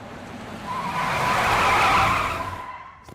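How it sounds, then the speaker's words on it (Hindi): A car brakes hard and skids to a stop with a loud tyre squeal that swells, holds for about two seconds and then fades as the car halts. No voices are heard. "किसने बोला था वो ब्रेक मारने के लिए?"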